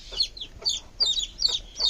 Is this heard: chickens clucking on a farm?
yes